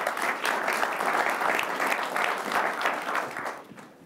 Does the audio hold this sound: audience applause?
yes